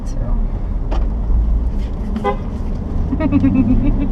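An Aston Martin Vantage's horn toots a couple of short times over engine hum, with people talking nearby.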